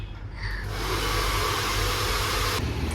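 A hair dryer at home blows in a steady, loud whoosh that rises in the first second and then holds level before cutting off near the end.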